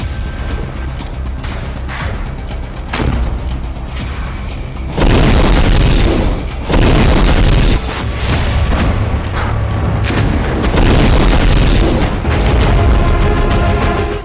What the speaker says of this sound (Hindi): टैंक और पैदल सेना पर हमास इसी तरह से हमला कर रहा है